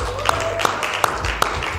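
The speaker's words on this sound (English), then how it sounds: "Give yourself a round of applause" An audience at a breakfast event claps together, a steady patter of applause with several sharper single claps standing out at regular intervals, fairly close and loud, with no talk over it.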